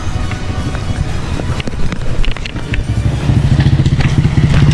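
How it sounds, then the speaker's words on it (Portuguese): A motorcycle taxi revs up and pulls away, its engine note rising and pulsing steadily close by, with wind buffeting the microphone as it rides. "tem um táxi moto, vamos pegar aqui para a gente poder ir entregar"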